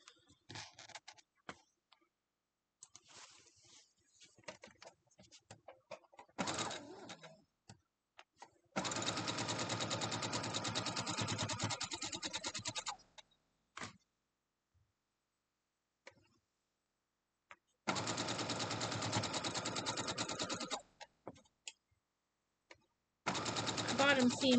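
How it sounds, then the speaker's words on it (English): A domestic sewing machine stitches a quilt block seam in long steady bursts of rapid needle chatter, stopping and restarting several times with quiet pauses and light handling noise between runs. "sew this up"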